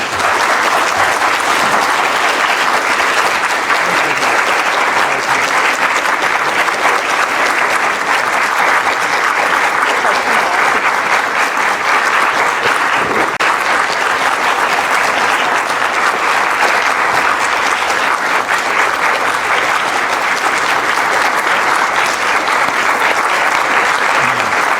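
Sustained, dense audience applause welcoming Nobel laureates Abhijit Banerjee and Esther Duflo, loud and steady from start to finish with many hands clapping at once and no break.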